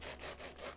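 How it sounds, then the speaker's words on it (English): Knife sawing through toasted bread of a Reuben sandwich, three close rhythmic rasping strokes with a crisp crunch, alone without talk. "Listen to that crunch of the bread."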